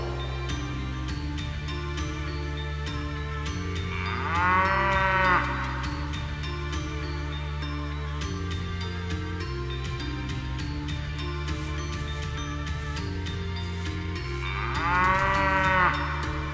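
A cow moos twice, long and loud, about ten seconds apart, over a steady musical background with no talking.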